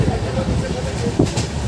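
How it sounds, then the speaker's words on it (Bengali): A passenger train pulling into the station at Digha rumbles and rattles low and close, with a sharp knock partway through and people talking over it. "আমাদের ট্রেন এসে গেছে দীঘাতে, নামার জন্য প্রস্তুতি নিচ্ছি আমরা সকলে।"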